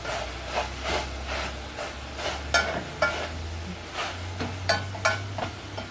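Raspberries mashed and stirred in a hot pan for a low-carb thumbprint cookie filling, with a soft steady sizzle and rhythmic scraping strokes every half second or so over a low hum.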